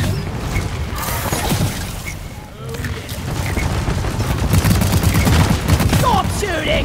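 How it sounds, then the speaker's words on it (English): Rapid gunfire crackles through a video game battle, dense bursts and impacts layered under shouting game voices. "Stop shooting me!"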